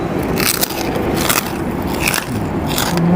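Loud, close crunchy bites and chewing on crispy pork tail, several crackling crunches in a row with no talking.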